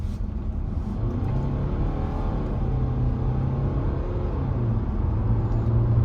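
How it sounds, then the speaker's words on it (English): Steady, loud engine rumble and road drone from a 2014 Mercedes-Benz E220d automatic estate accelerating in sport mode, heard from inside the cabin as one continuous tone with no talk. "we're going to need to pick up some speed, and I will just demonstrate to you putting it back into sport mode"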